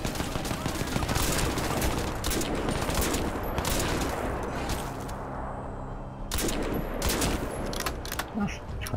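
Crysis 2 combat gunfire, dense bursts of automatic shots and fusillade crackling loudly throughout, with a short quieter stretch before the firing resumes.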